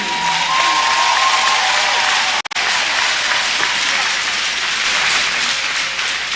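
A large arena crowd applauds coaches at an Italy–Switzerland hockey game, a dense, steady roar of clapping that fills the space, loud and continuous with a momentary dropout partway through.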